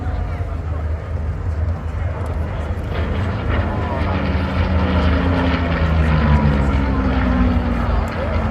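A CA-18 Mark 21 Mustang fighter built in Australia in 1947 drones past at an airshow, a steady loud propeller engine roar with a slowly shifting pitch, with talk faintly over it.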